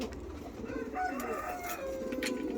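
A pair of rakkas pigeons, a ready-matched female and male, coo softly and repeatedly close by, a low throaty burble over a steady room background.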